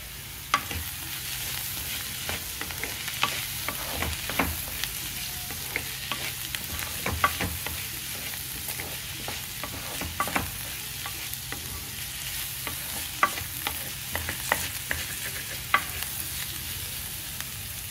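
Onions fry with ginger-garlic paste in a little oil, a constant close sizzle under repeated scraping stirs and light knocks against the pan, no talk.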